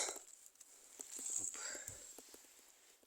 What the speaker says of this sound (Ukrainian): Дощик пішов роса.